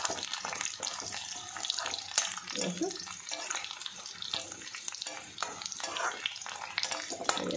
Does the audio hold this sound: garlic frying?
yes